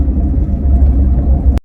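A car driving on the way to a temple, a steady low engine rumble and road drone filling the cabin, close and continuous, ending in an abrupt cutoff.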